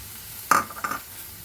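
A spoon stirs garlic and lightly crushed green chilies as they fry in a pan, with two quick scraping strokes close by and a soft sizzle underneath.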